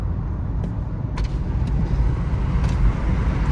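A 2015 Honda Accord driving, heard from inside the cabin as a steady low road and engine rumble with a few faint clicks and no talking.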